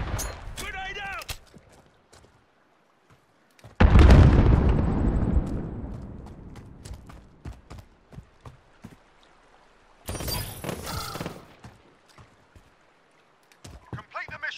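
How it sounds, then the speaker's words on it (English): A grenade blast in the video game Modern Warfare, during a 2v2 match, erupts loud and close, then rumbles away over several seconds. Sharp bursts of gunfire come before and after it, and a voice is heard in the mix. "Grenade out!"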